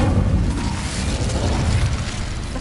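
Incendio fire spell in a video game setting dry vines alight, heard as a loud, dense whooshing roar of flame with a deep rumbling boom that holds steady throughout and has no voices over it.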